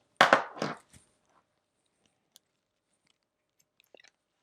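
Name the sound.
scissors cutting along a marked line on a screen protector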